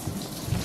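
Tap water runs steadily as a mixing bowl is rinsed while making gluten-free ladyfingers. It is a short, close, continuous splashing rush.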